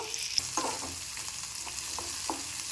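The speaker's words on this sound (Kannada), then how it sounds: "ಇದನ್ನು ಸ್ವಲ್ಪ ಗೋಲ್ಡನ್ ಬ್ರೌನ್ ಕಲರ್ ಬರೋವರೆಗೂ ಫ್ರೈ ಮಾಡ್ಕೋಬೇಕು." Ingredients for a jackfruit sambar fry in a pan toward golden brown, a soft continuous sizzle with light scattered scraping and stirring taps, close and fairly quiet.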